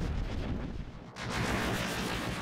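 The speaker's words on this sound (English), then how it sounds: "So we get a bunch of interesting weird squibbles, glitches, who knows what." Glitchy, pitched electronic noise from an FM glitcher device in Ableton Live: a dense, loud wash that drops out briefly near the middle and then returns, full and sustained, with no voice.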